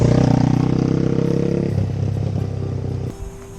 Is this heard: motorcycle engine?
yes